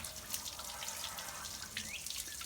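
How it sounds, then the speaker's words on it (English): Water runs steadily through a long tube hooked to a garden hose while a water heater is flushed out, a faint, continuous hiss and trickle with no talking. "hooked this little tube to the water hose so he can get up in there and clean it real good"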